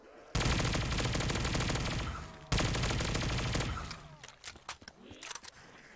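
Rapid automatic gunfire from a weapon in Black Ops 3 custom zombies on a Bikini Bottom map, two loud sustained bursts followed by scattered single shots and game effects.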